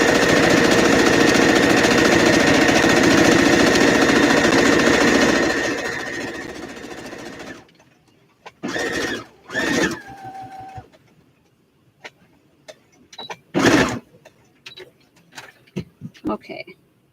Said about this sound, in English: I need to do a top stitch on this side too